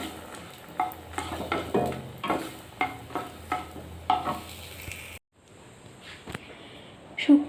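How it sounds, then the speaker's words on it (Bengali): Dried red chillies frying in a pan for a Bengali prawn paste dish: a soft sizzle under repeated rhythmic stirring scrapes for about five seconds, then a quieter stretch with a few clinks, heard up close. "শুকনো লঙ্কাগুলো একটু কড়া করে ভেজে নেব।"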